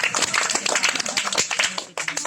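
A crowd claps at a street snake-charming show in an Indian village. The applause is loud and close, a dense burst of claps with a voice talking over it. It breaks off briefly near the end, then a few claps resume.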